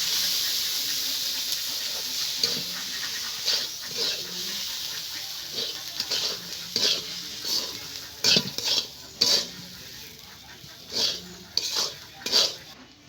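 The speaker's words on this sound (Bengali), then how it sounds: "এবার ভেজে রাখা সুজি অল্প অল্প দিয়ে নাড়তে থাকবো" Fried semolina being stirred in a pan for spicy sooji upma, with a steady sizzling hiss under repeated scraping and clinking strokes of a spoon that grow sharper and more frequent toward the end.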